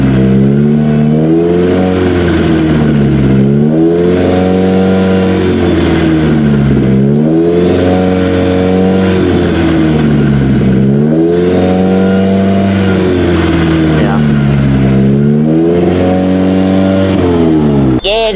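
A 2017 Subaru Forester engine revs repeatedly to about 3,000 RPM, rising and falling in pitch about five times in a steady rhythm, loud and close, with no talking, during intake valve cleaning.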